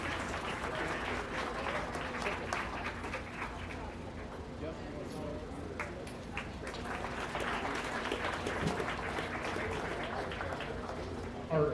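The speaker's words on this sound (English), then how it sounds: "let's give these kids a round of applause." Steady applause from a crowd at a county fair beef show, a continuous wash of clapping heard from a moderate distance, with faint voices mixed in.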